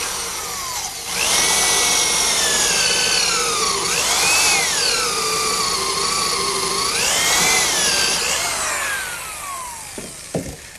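A power drill bores a 1.25 inch counterbore into wood for a 4-inch lag bolt head while building a picnic table. The motor whines steadily and close, its pitch sagging and rising under load for about ten seconds before it stops.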